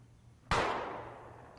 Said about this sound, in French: Le coup de feu, là, on n'aime pas trop.